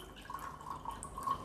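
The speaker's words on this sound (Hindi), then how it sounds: "यहाँ पे नॉर्मल पानी से हमने ये चने वॉश किए" Soaked chickpeas being rinsed in ordinary tap water make faint, close dripping and trickling sounds with small splashes, soft and continuous, with no speech.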